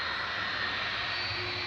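Steady, unbroken roar of Boeing 757-200 jet engines at Manchester Airport as the aircraft departs for Alicante, a dense broadband rush heard at a distance with no variation over the short span.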